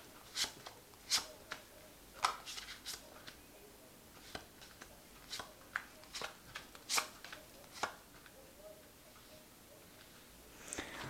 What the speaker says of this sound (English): So I'm going to just draw some cards.